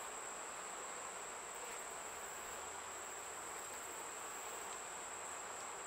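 Bees buzzing at a hive in fall make a steady, dense hum, a continuous buzzing drone with a faint high whine on top, no voices.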